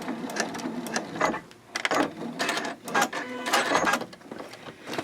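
Sewing machine stitching fabric for a boxy zippered bag, sewing up to a pin with backstitching, a close run of rapid mechanical bursts that speed up and slow down.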